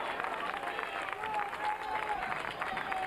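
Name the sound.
baseball fans clapping and cheering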